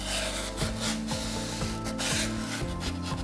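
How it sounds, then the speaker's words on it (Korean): Steady rough scraping of sandpaper rubbed back and forth over the edges of a handmade wooden book stand, close up, with a repeating stroke rhythm and no talking. "튀어나와 있는 부분에 손이 닿히지 않도록 하기 위해서 사포를 이용해서"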